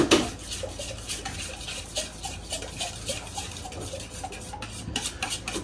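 Ingredients for a slow cooker meal mixed in a bowl: a steady, close stream of scraping and clinking of spoon against dish, repeating in an even stirring rhythm with no talk.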